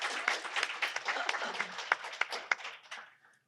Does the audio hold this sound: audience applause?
yes